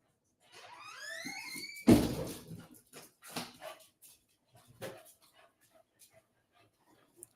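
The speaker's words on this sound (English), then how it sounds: "gotta let the dog in" A pet dog whimpers and yips in a rising, whining series, then a sharp thump as a house door opens, followed by scattered footsteps and light shuffling as the dog comes inside, all close and indoors.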